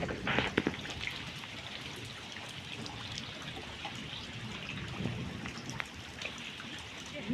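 Steady rain patters on surfaces around a flooded house as a downpour eases off, a dense even hiss of drops with occasional louder splashes, continuous and unbroken throughout.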